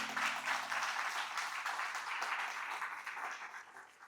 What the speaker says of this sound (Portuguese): Se quiser, você pode aplaudir isso